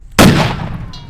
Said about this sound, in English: Plastic explosive explosion.